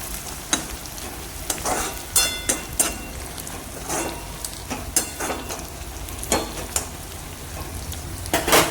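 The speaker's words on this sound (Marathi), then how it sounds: "चांगलं मिक्स करून घ्यायचं." Spice masala with green chilli frying in a pan, stirred with a spoon: a continuous sizzle broken by repeated sharp scrapes and clinks of the utensil against the pan, close by.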